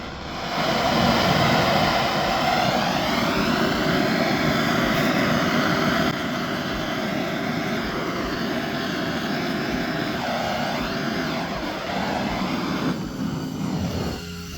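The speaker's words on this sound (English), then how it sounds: "I'm going to incinerate Charlie now." A gas-filled blowtorch rigged as a plasma lightsaber roars steadily and loudly for the whole stretch, a broad rushing flame with a slight dip in intensity partway through and no talking.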